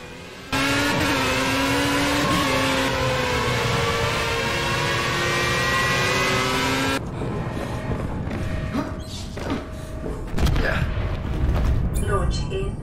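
Race car engine in the VR racing game Project Cars, a loud sustained revving roar that rises and falls in pitch, then shifts to a rougher, busier engine sound with gear changes and mechanical rattle, no voices.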